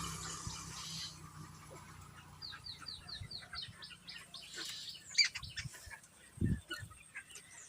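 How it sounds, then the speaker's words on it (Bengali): Small birds perched in a neem tree on a farm chirp in quick repeated tweets, a bright run of calls mid-way over faint outdoor background, with a few soft knocks. "আমাদের নিম গাছের ডালে কত পাখি বসে আছে দেখুন বন্ধুরা"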